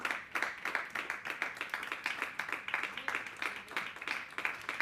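Rhythmic clapping from a church congregation during a Sunday sermon, evenly spaced beats in unison carrying on steadily, moderately distant and fairly soft.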